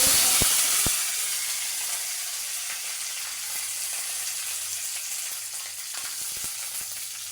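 Curry leaves and onions for dal frying in oil make a loud, bright sizzle that starts strong with a few sharp pops, then steadies into a continuous close hiss with occasional crackles.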